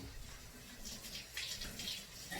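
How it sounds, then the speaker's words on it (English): Kitchen tap water runs over fennel as it is rinsed, a soft continuous splashing and trickling with shifting spatter, close and fairly quiet, without speech. "I'm gonna run water through it one more time."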